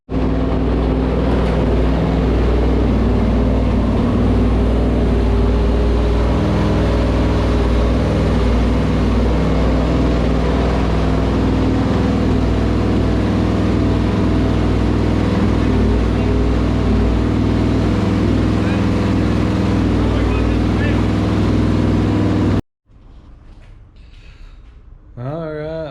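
Home-built racecar engine running loud and steady, a dense rumbling drone held for over twenty seconds before cutting out abruptly, followed by quieter background sound.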